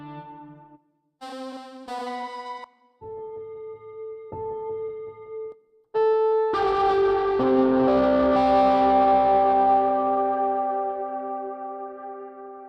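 Keyboard notes from the Stella Vox app preset with effects: a few short separate tones ringing with echo, then a sustained chord that swells and slowly decays, with no voices.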